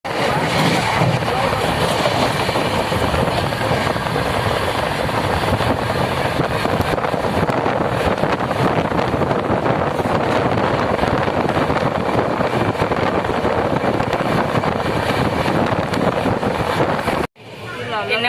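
Interior of a moving train carriage: a continuous loud rumble and rattle of the running train fills the whole stretch, with faint voices underneath, then cuts off abruptly near the end.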